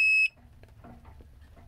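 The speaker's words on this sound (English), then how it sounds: "That beep is low voltage." A single sharp, high-pitched low-voltage warning beep from a boat's power inverter sounds briefly at the start, then cuts off, leaving quiet room noise and faint shuffling.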